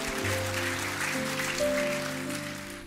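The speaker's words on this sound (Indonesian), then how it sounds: "Kita beri tepuk tangan saudaraku." A church congregation claps steadily through nearly three seconds, over sustained organ-like tones that hold underneath.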